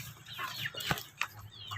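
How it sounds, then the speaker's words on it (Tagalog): Chickens cluck in short, irregular bursts nearby, with a few sharper squawks standing out over a soft background. "Dito ako nagulat sa ang tinatakbo ng ating mga manok."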